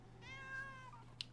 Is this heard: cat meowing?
yes